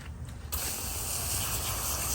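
A sudden, loud, continuous spray of water hisses close by as it rinses the filter of a Bissell Crosswave Pet Pro wet-dry vacuum.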